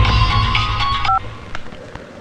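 A telephone keypad gives a couple of short, clear dialing beeps in quick succession, preceded by a low hum and faint rustling, with a few soft knocks trailing off afterward.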